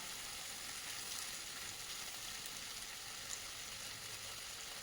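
Cauliflower and mixed vegetables sautéing in a pan for vegetable curry, a steady, even, close sizzle with no pauses throughout.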